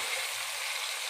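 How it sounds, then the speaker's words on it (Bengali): Potatoes fry in a pan, a continuous hissy sizzle heard up close, steady and unbroken for a brief moment. "আলুটা ভাজা হোক"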